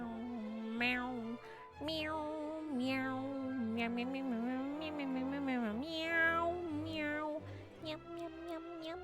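A person imitates a cat, voicing a long run of repeated meows in a high, wavering tone, close and loud, with the calls flowing one after another over faint game music.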